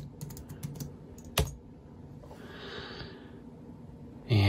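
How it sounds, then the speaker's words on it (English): A password is typed on the keyboard of a late 2012 21.5-inch iMac: a quick run of soft key taps, one firmer keystroke, then a faint breathy sound and a louder tap at the end. "So let me just type in my password."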